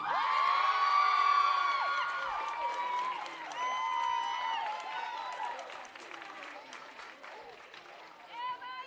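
A crowd cheers, whoops and applauds as the homecoming queen is crowned at a college basketball game, a loud, sustained roar with high shouts that slowly fades into lighter scattered clapping.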